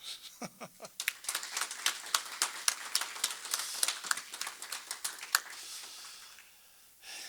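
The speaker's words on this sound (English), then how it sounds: "I think we all deserve a round of applause" A short burst of scattered clapping from a small group, uneven and fairly close, fading out after several seconds.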